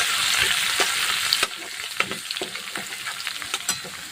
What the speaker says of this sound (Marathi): अद्रक आणि लसूण छान भाजून घ्यायचं आहे